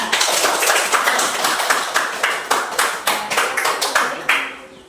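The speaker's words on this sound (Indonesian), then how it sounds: "Tepuk tangan untuk kelompok 2." Classroom applause for a student group in a fourth-grade science lesson, a close, loud burst of many hands clapping in a fast, fairly rhythmic pattern that stops abruptly after about five seconds.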